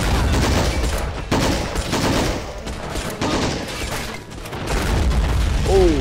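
Dense, continuous battlefield gunfire and heavy booms from tank cannon fire in the Army Men of War video game, sustained throughout with rapid bursts layered over low rumbling blasts.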